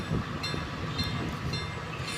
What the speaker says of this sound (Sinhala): දැන් කෝච්චිය එනවා ස්ටේෂන් එකට